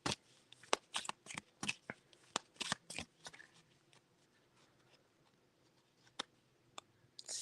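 Tarot cards are shuffled close up. Rapid crisp riffles and flicks come in quick bursts for a few seconds, then only a few scattered soft clicks follow as the deck settles.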